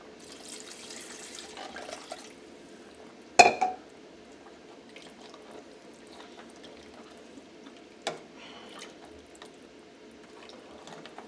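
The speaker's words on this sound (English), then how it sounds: "We have to add a little bit of water to this." Water is poured into a pot of coconut crab curry for ramen, a soft liquid splash followed by a sharp clank of utensil and a quieter knock as it is stirred, over a low background hiss.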